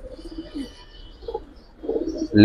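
Pigeons in a collection of Giribaz and colored pigeons give soft, low, muffled coos, nearby, with a louder flutter at the very end.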